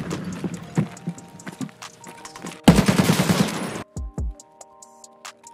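Game gunfire from a 7.62x39mm AK rifle in Escape From Tarkov: scattered shots through the first part, then a dense loud burst of automatic fire lasting about a second, followed by a few sharp trailing shots and quieter distant reports.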